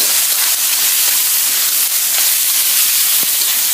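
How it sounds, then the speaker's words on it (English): Ginger, garlic, scallion bottoms and beef hitting a hot wok for broccoli beef stir fry, a loud, steady broadband sizzle and hiss that fills the whole stretch, close and continuous, with faint clicks of stirring and no talk. "we're adding our ginger and garlic and the scallion bottoms, and quickly the beef"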